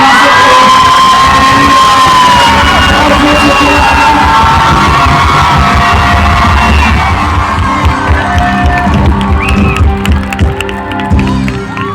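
A large crowd at an outdoor church festival on the Gossner middle school ground in Ranchi shouts and cheers loudly, voices yelling together, then the roar thins into scattered whoops and claps toward the end.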